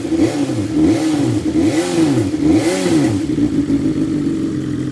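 A BMW S1000XR motorcycle engine revs repeatedly, rising to about 6,000 RPM. The pitch climbs and falls in several rhythmic waves over a steady, close idle, with no talking.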